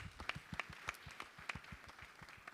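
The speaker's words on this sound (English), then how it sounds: "Clap for the young ladies who are joining us" Audience applause at a tech week opening ceremony in Nairobi, welcoming young women joining the stage; a fairly faint, sparse patter of claps with distinct individual hits, no voices over it.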